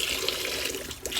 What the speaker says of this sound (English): we'll turn the water on